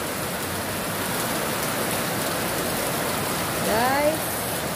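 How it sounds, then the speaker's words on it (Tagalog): Heavy rain falls in a dense, even hiss under a dark sky, close and steady throughout, with a short rising vocal sound near the end. "Ayan ang ulan, napakadilim."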